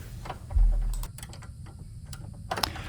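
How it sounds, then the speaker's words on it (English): Socket drive ratchet working a bolt out of a mower deck, with a 9/16 wrench holding the nut below: a few quick metallic clicks, scattered and close, with a louder knock early and another burst near the end. "I need to have a 9/16 wrench on the bottom to be able to use my socket drive on top and get this bolt out."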